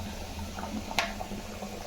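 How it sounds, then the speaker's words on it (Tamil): Thick chickpea curry bubbles gently in a pot, with soft irregular blips and one slightly louder pop, quiet and close. "நல்லா தலை தலை தலை தலைன்னு கொதிக்கிட்டு பாருங்க"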